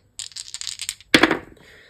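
Small dice rattle in a cup for about a second, then clatter onto a hard surface with a sharp bright strike and a few quick bounces that fade out.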